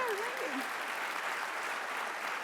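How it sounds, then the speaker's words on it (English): An audience at the Keep AZ Free Summit claps in steady, moderately distant applause, while a brief vocal sound rises over it at the start. "Round of applause, thank you."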